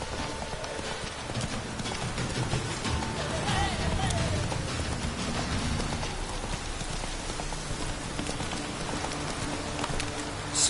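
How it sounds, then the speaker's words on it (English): Steady heavy rain hisses throughout in The Witcher 3: Wild Hunt, with rhythmic hoofbeats clopping underneath and a voice speaking over it. "This downpour's a bastard,"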